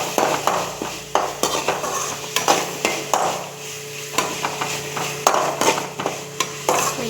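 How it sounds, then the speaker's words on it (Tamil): Onions and tomatoes with curry leaves are stirred and sautéed in a pan. A utensil clinks and scrapes against the metal in a quick, uneven rhythm, close and fairly loud, over a soft sizzle. "இந்த வெங்காயம், தக்காளி இதெல்லாம் நல்லா வணக்கலாம்."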